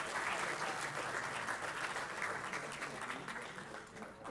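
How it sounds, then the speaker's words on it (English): A crowd claps steadily throughout, dense and sustained, fading slightly toward the end. "We can give Thaddeus a round of applause"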